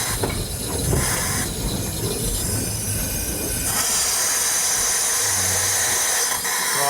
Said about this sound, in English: Right, we now stop the loco at the stop board.